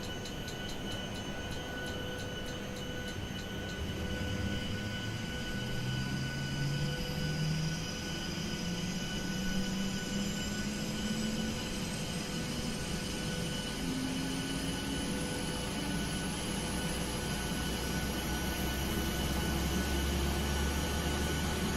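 A steady whining drone with slowly rising tones builds under constant noise, a Boeing 737NG auxiliary power unit spooling up in a flight simulator, with faint ticking early on.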